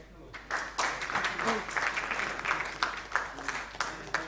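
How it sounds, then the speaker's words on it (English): An audience at an education summit felicitation ceremony claps steadily, the applause swelling after a quiet start and staying fairly loud, with a voice briefly heard over it. "they have to be encouraged and applauded by all of us"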